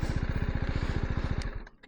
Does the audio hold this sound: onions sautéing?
no